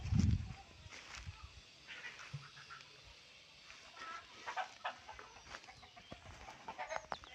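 A mother hen with two chicks clucks in short, soft bursts outdoors, with faint rustling and other quiet farmyard noises around it.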